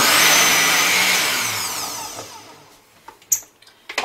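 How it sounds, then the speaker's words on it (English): A blender mixing a frozen plum, ginger, spice and sugar smoothie, a loud whirring motor that winds down and stops, followed by a few light knocks and clinks. "So now I'm going to turn my blender back on to mix in the spices and the sugar."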